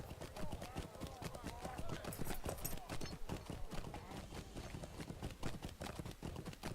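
Horse hooves clip-clop at a steady running gait in The Lord of the Rings Online, a dense rhythmic stream of close, loud strikes over underlying game sound, with a voice talking over it.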